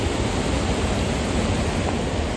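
Small moss-covered waterfalls at Ethipothala, a loud steady rushing roar of falling water filling the scene, continuous and unchanging with no voices.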